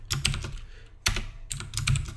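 Fast bursts of keystrokes on a computer keyboard while code is written for a React JS tutorial, two clattering runs split by a short pause, close and clear with no talk.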